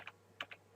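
Three quick, soft key presses on a computer keyboard's arrow keys, tapped at an uneven pace at close range while someone adjusts a web page layout; no one speaks.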